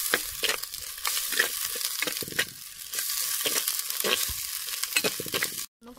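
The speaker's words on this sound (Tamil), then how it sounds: "இப்போ நம்ம இந்த ஸ்டேஜில் நம்ம இதை இஞ்சி பூண்டு விழுது சேர்த்துக்கலாம். நல்லா கிளறி விட்டுக்குங்க." Ginger-garlic paste fries in a clay pot for prawn biryani while being stirred, close sizzling interrupted by repeated scraping strokes, with a brief gap near the end and no talking.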